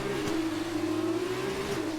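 An F2 race car engine in the video game F1 2019 holds a steady, high-pitched whine as it accelerates, loud and continuous without talk.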